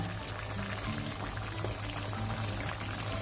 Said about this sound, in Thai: พอหน่อไม้เดือด